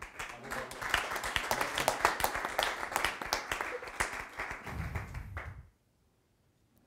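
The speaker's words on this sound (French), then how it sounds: "on peut l'applaudir une nouvelle fois" Audience applause at an environmental awards ceremony, a third national prize honoured, with dense clapping held for about five and a half seconds before cutting off to silence; a voice speaks briefly underneath.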